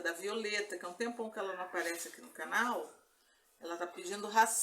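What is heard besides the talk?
No everyday noise stands out behind the speech.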